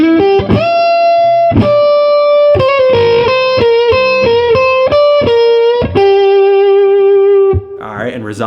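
Distorted electric guitar plays a bluesy lick over the third line of a 12-bar blues in G, with sustained bent notes and sharp picked attacks, loud and close, ending on a resolving chord.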